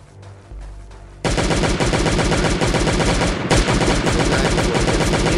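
Sustained rapid gunfire from a minigun in a survival shooter game: after a quiet start with faint noises, a loud continuous burst of automatic fire rattles on without pause, close and dense.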